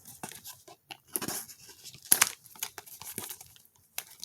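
Pokémon card pack wrappers being crinkled and torn open at close range, quiet scattered crackles and rustles in short bursts with one sharper rip midway.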